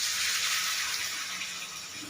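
Water is poured into a cooking pot while paneer and capsicum curry is prepared, a continuous splashing gush that holds steady and then tapers slightly, with no talk.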